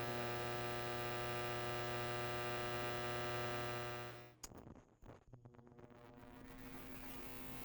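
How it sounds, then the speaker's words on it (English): An induction cooktop in operation gives off a steady electrical hum with a buzzing tonal edge that cuts out abruptly, leaving a few faint clicks and ticks before the quiet hum slowly returns. "Normal induction operating noises."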